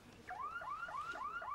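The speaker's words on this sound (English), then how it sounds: "The alarm is sounding." An alarm wails in a close, steady pattern of rising electronic sweeps repeated about every quarter second, loud and alone without talk.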